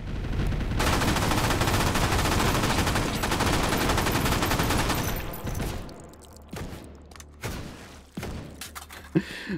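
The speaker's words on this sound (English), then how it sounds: "I'm going to load this thing and I'm going to shoot you with it" Gunfire in the VR shooter Hot Dogs, Horseshoes & Hand Grenades on a WW2 custom map, a dense rapid automatic burst lasting several seconds, then scattered single loud shots and clatter.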